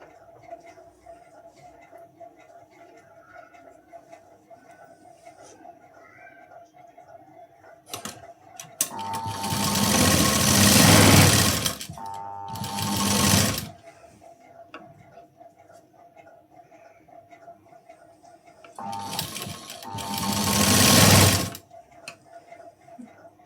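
A sewing machine stitches a pinned blouse in two loud bursts of steady mechanical whirring, each lasting a few seconds, separated by quiet pauses.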